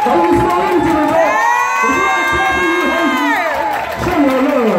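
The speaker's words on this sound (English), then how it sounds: "y'all start clapping right now" A live audience at a spoken-word poetry show cheers, whoops and claps loudly and continuously, a dense wall of crowd noise with rising shouts over several seconds.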